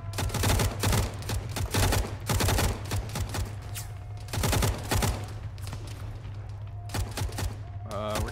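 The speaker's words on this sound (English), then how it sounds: "We're taking fire from the east, I think, too." Rapid gunfire in Arma 3 combat in a Western Sahara setting: dense bursts of close automatic rifle and machine-gun fire crackle repeatedly, with sharp single shots and distant volleys between them and brief radio-like voices.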